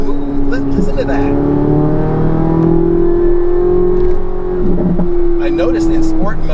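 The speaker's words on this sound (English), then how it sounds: "There's a great metallic whine when the revs start getting high." A 2023 Corvette Z06 sports car engine revs hard and climbs with a sharp metallic whine, its eight-speed dual-clutch gearbox snapping through quick, smooth shifts; loud and close throughout, with a brief dip near the middle.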